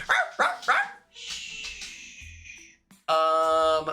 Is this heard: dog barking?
yes